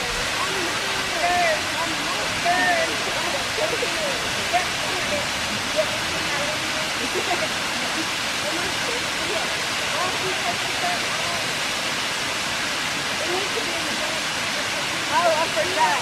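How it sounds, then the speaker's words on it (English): Waterfall at Stillhouse Hollow in Tennessee, a steady close rush of falling water filling the whole span at an even level, with faint voices now and then beneath it. "There's so much water coming off of this."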